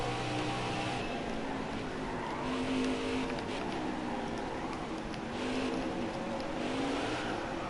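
Race car in NASCAR Heat 5 at Sonoma skidding off the track, a loud engine drone with rising and falling tire squeal and skidding noise, sustained throughout with no voices.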